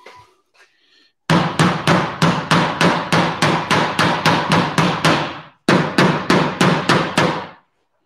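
Hammer striking sheet metal on an anvil while closing a pinch seam in a shop, a loud fast series of sharp metallic blows in steady rhythm, briefly pausing before a second burst.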